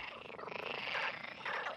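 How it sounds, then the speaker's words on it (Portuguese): Frogs croaking, a dense continuous chorus of rasping, pulsing calls heard faintly at a distance with no talking. "As rãs coacham soprando o ar dos pulmões pelas cordas vocais e amplificando a sua vibração com o saco vocal."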